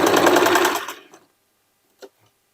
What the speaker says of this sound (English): Then turning it and stitching the other one